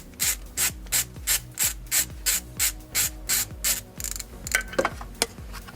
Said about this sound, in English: we remove that bolt.